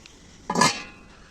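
A single metallic clank and rattle as a cooking pot is picked up or set down, close and brief, with quiet before and after.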